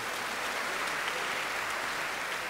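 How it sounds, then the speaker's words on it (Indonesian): Sustained applause from a university graduation audience at a cum laude ceremony, a steady even wash of clapping at moderate level with no voices over it. "Tepuk tangan."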